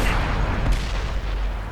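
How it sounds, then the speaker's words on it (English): Rapid gunfire from a T-50-2 light tank in World of Tanks on console, a loud, dense stream of booming shots blending into continuous rumble. "This thing spits bullets out so fast, it really makes no difference."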